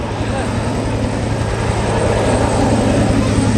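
A military helicopter makes a sudden zoom climb at a mass departure, its loud steady rotor and turbine roar filling the scene with a continuous broadband drone that builds slightly toward the end.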